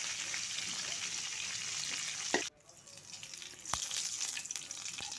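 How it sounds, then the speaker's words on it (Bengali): Cauliflower florets frying with turmeric and salt for an aloo-kopi dalna, a loud steady sizzle that cuts out abruptly midway, then resumes more quietly with occasional utensil knocks. "এই যে ফুলকপিগুলোর মধ্যে হলুদ 3টা আর লবণ দিয়ে আমি ভেজে নিচ্ছি।"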